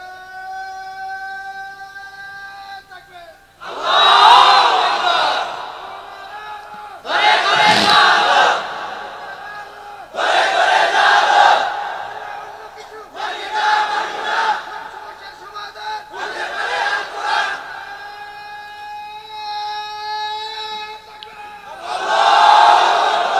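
Crowd at a Bangla Islamic sermon gathering chants a slogan in loud unison bursts, about six shouted rounds with short pauses, alongside a sustained droning tone.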